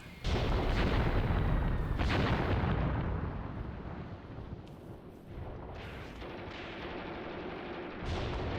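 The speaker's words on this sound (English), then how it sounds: "you may as well stay buttoned given the artillery falling around you" Artillery shells land in the war game Graviteam Tactics, a loud, heavy rumbling barrage of overlapping blasts that fades slightly before another burst near the end.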